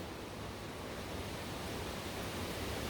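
Steady outdoor wind roaring as a broad, even rush of noise, loud and constant throughout with no voices.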